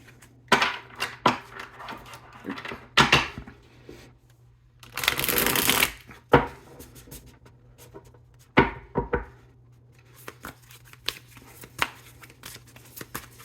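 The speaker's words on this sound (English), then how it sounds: "We're going to pull one card from here to see what is in your unconscious energy." A tarot deck is shuffled before one card is drawn, with repeated crisp riffling and fluttering bursts, a longer dense shuffle in the middle, and scattered card taps and clicks between them, close and fairly loud.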